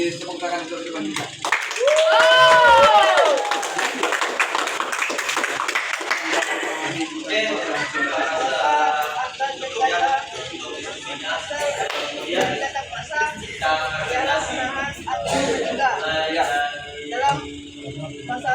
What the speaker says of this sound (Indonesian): Kita akan kasih tepuk tangan untuk Iwan kita.